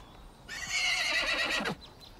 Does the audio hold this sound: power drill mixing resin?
no